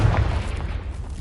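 A Confringo blasting spell in Hogwarts Legacy on PS5 detonates as a single deep, loud boom with a short rumbling tail, heard alone.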